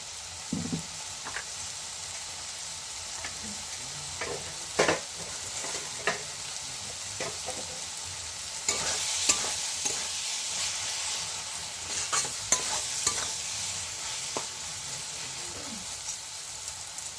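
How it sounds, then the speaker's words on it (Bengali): Spinach and mixed vegetables in a pan are stirred over a gentle sizzle, with scattered scraping knocks and a louder hissing burst partway through, heard close with no talk. "আমি এখানে পালং শাক দিয়ে একটু নাড়ানাড়ি করে নিয়েছি"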